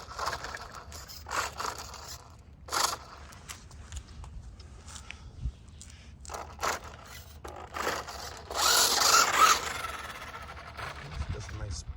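A Maisto Formula F1 ready-to-run RC car spins its wheels, giving scrabbling, scraping bursts that rise to a louder rush near the end, mixed with talking.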